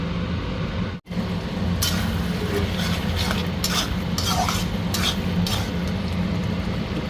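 Mushrooms are stirred and fried dry in a pan with spices and no added water, with repeated scraping strokes over a low steady sizzle, close and clear, broken by one brief dropout near the start.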